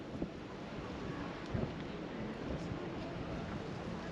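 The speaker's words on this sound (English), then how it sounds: "It's a bit breezy" Steady broadband wind noise buffets the microphone at a seaside breakwater in Plymouth's Royal William Yard and Stonehouse area, a constant breezy rush with a few small gusty bumps and no clear talk.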